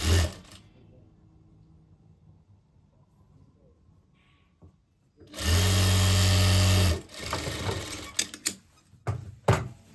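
A sewing machine stitches a 12-panel palazzo in one loud, steady run of about two seconds after a quiet stretch, with softer handling noises following.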